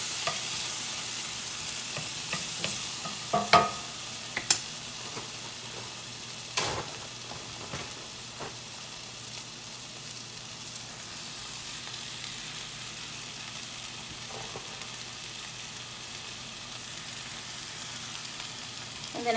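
Tomatoes and garlic fry in a pan with a soft, continuous sizzle and hiss, dotted by occasional spoon clinks and stirring scrapes early on, fairly quiet throughout.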